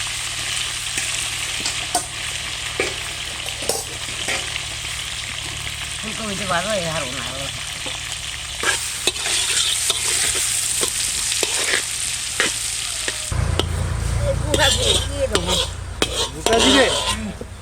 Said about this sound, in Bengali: বড় মা আগে ফুলকপি ভাজবে তারপর আলু ভাজবে